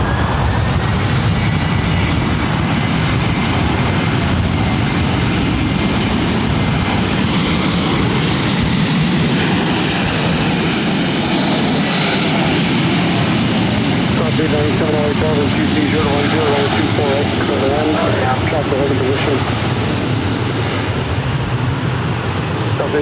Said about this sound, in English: This is Delta Airlines 914 taking off to Minneapolis on a 737-900 ER.